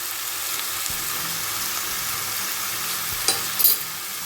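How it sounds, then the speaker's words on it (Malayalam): Bitter gourd with turmeric and salt stirred in a hot pan: a steady close sizzle with soft scraping of the spoon and a couple of sharper clacks near the end, alone without talk. "നമുക്ക് നന്നായിട്ട് ഇളക്കി യോജിപ്പിക്കാം"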